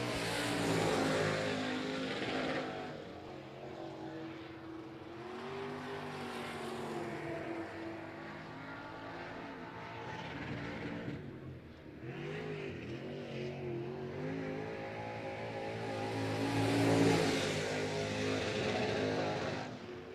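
A late model race car engine revs hard at a speedway, hitting the rev limiter, pitch climbing and dropping through repeated accelerations, loud and close with gear-change dips, no talking.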